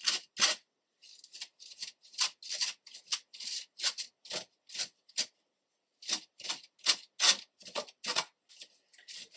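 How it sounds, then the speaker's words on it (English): Stinging nettle seeds are rubbed by hand through a sieve to strip them from their stalks, making a close, rhythmic series of dry rasping strokes with brief pauses between them. "just keep rubbing through the sieve, getting all of the seeds off of the little stalks"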